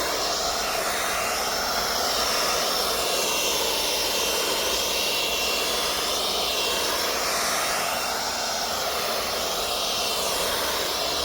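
Parkside 20V cordless leaf blower, model PAUGB A1, running steadily at close range, giving a continuous broadband whoosh and airy whine that stays even throughout with no talking.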